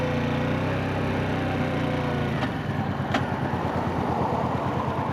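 A motorcycle engine drops a gear on an industrial-estate road: a steady engine drone steps down in pitch partway through, then carries on in a rougher, pulsing note, loud and close with wind noise.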